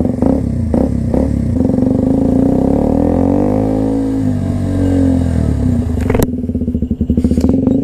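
KTM RC125 motorcycle with a GPR exhaust being ridden: a loud, continuous raspy engine drone that rises and falls with throttle, with a crackling pop near the end, heard close up from the rider's position.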